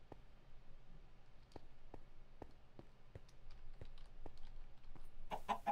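A chicken in a Minecraft TerraFirmaCraft mod clucks in a quick series of short, sharp game-sound clicks at a regular pace, faint and alone over a low steady hum.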